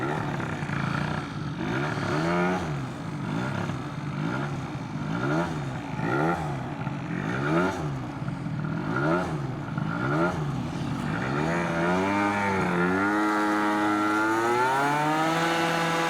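A Stage6-tuned Yamaha BWS 70 scooter engine revs up and down in repeated rising and falling sweeps, loud and close, then settles into an uneven, wavering idle that struggles to hold steady.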